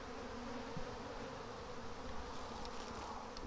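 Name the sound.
bees buzzing in a swarm trap box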